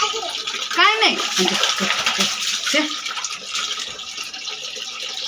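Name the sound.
child running water from a tap into a bucket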